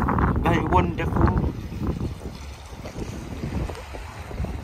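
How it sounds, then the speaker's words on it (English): Strong wind gusts buffet the microphone on the Welsh coast, a loud, continuous rushing roar that swells and eases, with a person speaking under it early on. "Breezy."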